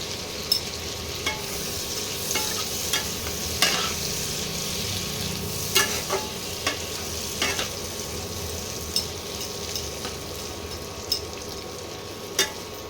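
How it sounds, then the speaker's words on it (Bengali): Chopped onions fry in oil for a lamb curry, a continuous moderate sizzle with intermittent clicks and scrapes as a spatula stirs the pan every second or so, close by and with no talking. "পেঁয়াজটা একটু ভাজা ভাজা করতে হবে।"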